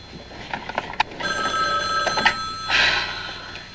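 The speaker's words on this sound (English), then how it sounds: "Phone is driving me crazy." An indoor telephone bell rings in a bright electronic trill, with several bursts across the clip, close and fairly loud, and no talk over it.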